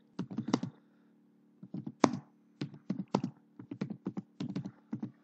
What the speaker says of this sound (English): type a comment as you want i will type here please